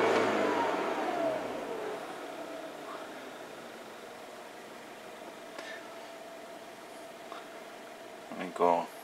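A 2011 Mini Cooper S R56 with a random misfire, its engine revving up in a snap throttle and then settling back to idle, followed by a quieter stretch with a few soft clicks and brief rustling near the end.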